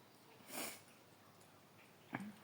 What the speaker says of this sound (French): je vous renifle dans les oreilles